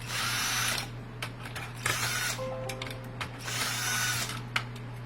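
A power screwdriver whirs in close, loud bursts while unscrewing screws from a Sync 2 module in a 2019 F150 Raptor, with pauses and small clicks between the runs of the motor.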